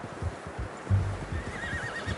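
A horse whinnies with a wavering, rising call over faint hoof clops, fairly quiet and brief.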